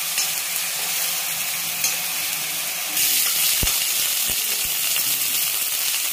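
Onion fries in oil with a dense, bright hiss that gets louder partway through, plus a few sharp taps from a utensil on the pan, heard up close with no speech.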